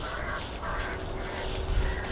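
A pre-recorded bird distress call blares over an RAF airfield to scare birds away, harsh squawking cries sounding through steady outdoor background noise.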